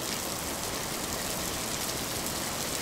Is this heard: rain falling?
yes